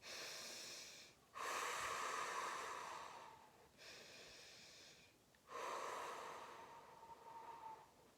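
Heavy breaths during a stretching exercise, three long, loud, rasping exhales separated by short pauses, close and alone with no talk.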